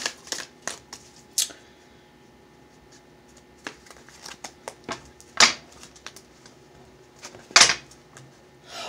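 Tarot cards are shuffled and tapped down for a reading in a quiet room, sharp crisp bursts of cards landing at irregular intervals with a few louder riffles standing out.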